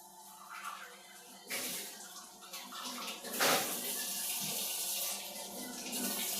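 Water from a tap runs steadily while ginger is washed in a kitchen, with splashing changes as the stream hits the ginger and a faint voice now and then.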